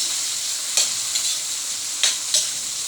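Onion and garlic frying in a pan for chop suey, a steady soft sizzle with a few brief stirring scrapes, close by and with no voices.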